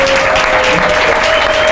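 Audience at a faith and mental health conference applauding, a steady dense wash of clapping hands throughout, close and loud with no talk over it.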